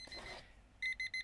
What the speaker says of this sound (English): that's my alarm to tell me to stop talking about it